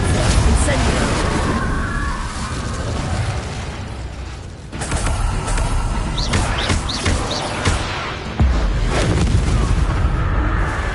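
Incendio fire spells and other spell effects in the PS5 game Hogwarts Legacy: loud booming bursts and mechanical clatter layered over continuous game noise, with voices talking throughout.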